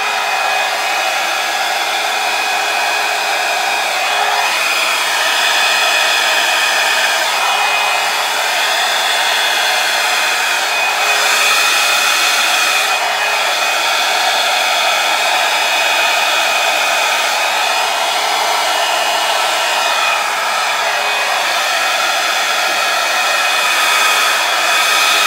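A hair dryer blows continuously over acrylic pour paint with water and sprinkled pigment, a loud, steady rushing whir lasting the whole stretch with slight shifts in tone as it moves, with no talking.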